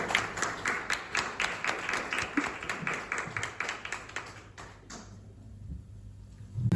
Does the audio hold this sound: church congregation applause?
yes